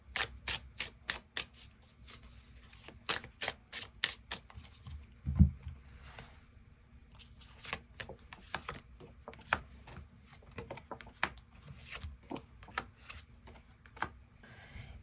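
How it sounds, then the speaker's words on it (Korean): Tarot cards being shuffled and drawn give a quick series of soft, crisp flicks and taps, densest at the start and thinning into sparse clicks, faint and close, with no talk. "추가 카드로 그래서 앞으로 나에게 우리 두 사람에게 필요한 조언의 카드 무엇이 있을지 추가 카드 뽑아보도록 하겠습니다"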